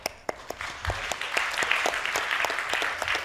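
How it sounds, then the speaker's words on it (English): An audience at a business forum applauds steadily, with dense clapping that builds and holds throughout. "let's give him the big applause."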